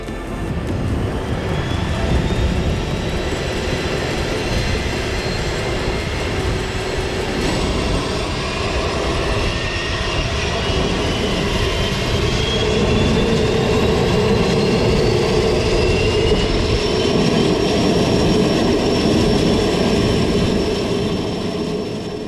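A loud, constant turboprop engine drone from a Quest Kodiak airplane with a rising whine fills the scene steadily, a powerful rumble that holds without pause throughout.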